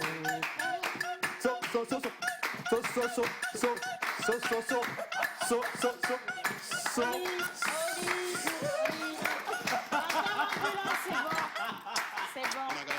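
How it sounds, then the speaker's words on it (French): An audience claps after a song at a live musical gathering, with continuous rapid applause and some laughter throughout, fairly close and steady. "ceux qui ont applaudi, qui ont apprécié la chanson"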